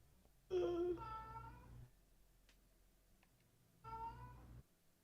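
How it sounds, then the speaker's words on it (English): A cat meows twice, a long drawn-out cry followed by a shorter one after a pause, fairly close against a quiet background. "Hear meowing in the background now."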